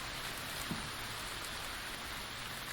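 Constant rain in the survival game The Infected, an even, broad hiss of falling drops that stays level throughout, with one faint low knock early on and no talking.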